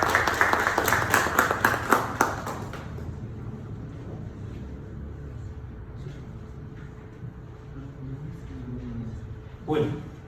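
Attendees at a cultural management congress clap for a speaker; a brief round of applause lasts under three seconds, then gives way to the quiet hum of the room.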